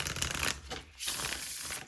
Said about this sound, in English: One more shuffle. I seem to always shuffle 3 times.